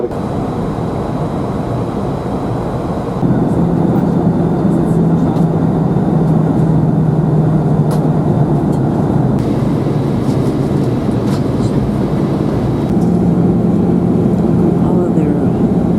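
A Swiss Airbus A319 cabin during descent into Zurich fills with a loud, steady engine and airflow roar that steps up in level after a few seconds and holds.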